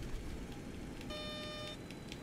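A steady electronic spoiler warning tone sounds in an X-Plane 11 FlyJSim 727 cockpit, a thin sustained beep under constant cockpit and engine noise.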